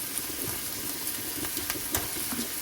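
Pieces of Farm Boy andouille sausage frying in a pan, a steady close sizzle with small crackling pops and an occasional stir, with no voices over it.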